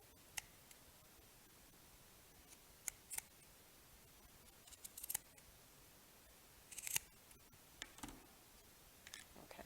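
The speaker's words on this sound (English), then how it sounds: "I'm just going to make a really loose cut around." Scissors make a loose cut around paper for macrame feather earrings, giving faint, scattered snips and clicks at close range over a quiet background with no talk.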